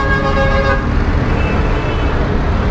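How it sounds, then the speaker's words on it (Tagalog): Heavy, congested street traffic in Tondo, Manila, with a car horn tooting repeatedly through the first second, over a dense rumble of engines. "Grabe ang traffic, oh."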